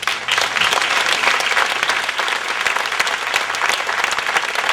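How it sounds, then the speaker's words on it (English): Sustained applause from an audience, dense steady clapping that fills the whole stretch without a break. "Give her a round of applause."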